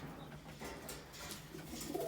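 Soft cooing of pigeons in a coop murmurs in the background amid steady ambient noise, low and somewhat distant, with a faint bird call near the end.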